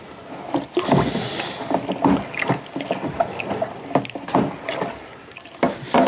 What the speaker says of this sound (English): Give that a little bit of a stir.